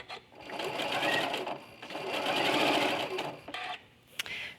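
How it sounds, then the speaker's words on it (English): A sewing machine stitches quilt fabric with a presser foot, whirring steadily in two runs separated by a brief pause, then a few short stops and starts. The sound is close and fairly quiet, with no talking. "I'll keep sewing, and you'll see what I mean."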